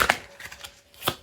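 Tarot cards are shuffled by hand in short, crisp bursts of riffling and tapping, close and fairly quiet, with pauses between.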